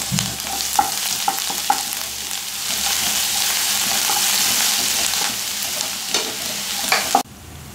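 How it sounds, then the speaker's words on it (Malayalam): Mustard seeds, ginger and garlic frying in hot oil for chicken curry, a loud continuous sizzle with scattered popping crackles throughout, ending abruptly. "അതേ എണ്ണയിലേക്ക് തന്നെ നമുക്ക് കടുക് ഇട്ട് കൊടുക്കാം. അതിലേക്ക് നമുക്ക് ഇഞ്ചിയും വെളുത്തുള്ളിയും ഇട്ട് കൊടുക്കാം."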